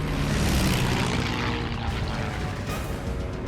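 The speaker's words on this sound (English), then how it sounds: "a swarm of 50 Japanese planes appears on the horizon" Japanese WWII propeller warplanes droning overhead in a naval battle, a dense, loud engine roar that swells and holds for several seconds with rumbling low throb, heard alone.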